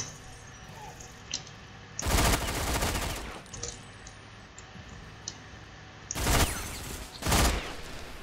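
Bursts of automatic gunfire from a video game shooter, two loud volleys about a second long separated by quieter in-game clicks and ambience.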